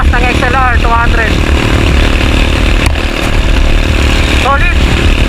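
Honda XLR200 dual-sport motorcycle with a mono shock, its engine droning steadily and loudly throughout a climb, with a rider talking over it.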